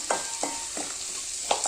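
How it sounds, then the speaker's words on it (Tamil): Chopped adamant creeper (pirandai) sautés in sesame oil for chutney, a steady high sizzle broken by four quick scraping stirs of a spoon against the pan, close and alone. "நல்லா வதக்கிக்கலாங்க. இந்த மாதிரி வதக்குனா போதுங்க."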